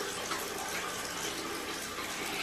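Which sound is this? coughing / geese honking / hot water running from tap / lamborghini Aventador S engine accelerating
hot water running from tap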